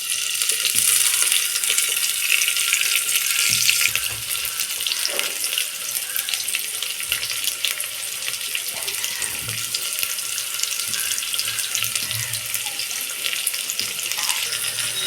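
Onions fry in oil for a chicken curry, making a loud, dense, continuous hiss that sounds almost like running water, with a few soft knocks underneath.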